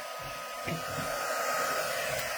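A hair dryer blows a steady, close whoosh across a freshly worked art journal page. It runs continuously and alone for a couple of seconds, with no voices.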